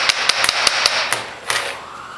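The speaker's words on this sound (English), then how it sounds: "Hammer and lightly separate our case out." A hammer lightly taps apart the case of a Denso 10S automotive AC compressor, giving about nine quick, sharp metallic knocks in an uneven rhythm, close and loud.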